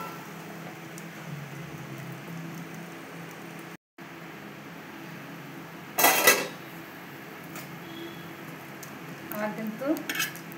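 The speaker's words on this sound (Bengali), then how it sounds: "এখন আমি ঢাকা দিয়ে দেবো।" A lid clanks onto a metal pot with one sharp, loud clatter, while lentil fritters made with pumpkin leaves fry gently underneath. A soft frying hiss runs throughout, and a few lighter utensil clinks follow near the end.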